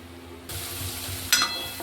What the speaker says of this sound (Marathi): 2 मिनिटं चांगला फ्राय करून घ्यायचा मसाला.